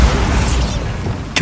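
Bombarda blasting spell in the Hogwarts Legacy video game, a loud, close boom that decays over about a second, then a short sharp burst at the end.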